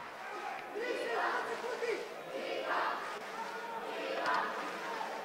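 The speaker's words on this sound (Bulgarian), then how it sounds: "Не спира публиката да го подкрепя" A fight-event crowd cheering on a fighter, rising waves of shouting and chanting voices from the audience, moderately loud and continuous across a few seconds.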